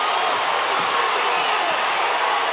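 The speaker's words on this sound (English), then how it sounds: "The Mills defense bringing the crowd to their feet." A packed gym crowd at a 4A boys state basketball final, Morrilton against Mills, roars in a dense, sustained wall of cheering and whoops after back-to-back steals, with a commentator's voice buried in the noise.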